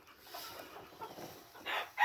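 Young game chickens clucking in a late-summer yard, a series of soft close clucks building to two louder calls near the end, with no talk.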